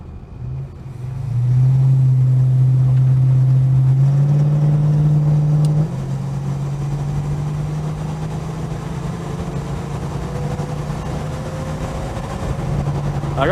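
Holden HK car engine revs up loud and close, holding a steady high drone for several seconds, then drops back to a lower, rough idle that continues to the end.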